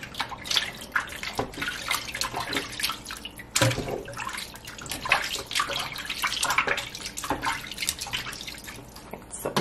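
Food rubbed with salt being washed under running tap water, with continuous splashing and dripping that comes close and fairly loud, broken by sharper splashes and handling noises.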